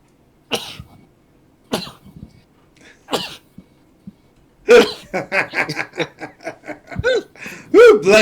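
A sneeze bursts out among friends, followed by a run of short coughs or snickering bursts, close and loud with quiet gaps between.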